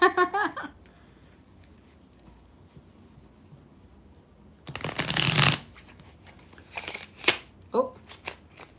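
Tarot cards being shuffled by hand in a short burst of riffling rustle, near and moderately loud, followed by a few lighter card snaps and taps, with long quiet stretches and a brief voice at the start.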